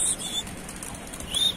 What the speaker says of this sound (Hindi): देखो गाइस, अभी कबूतर उड़ाते,